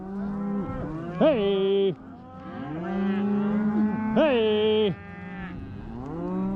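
Cattle on a Montana cattle drive lowing in long, drawn-out moos, two or three calls close by with rising and falling pitch, while a rider shouts short calls over them.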